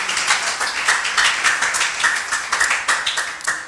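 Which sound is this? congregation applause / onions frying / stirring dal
congregation applause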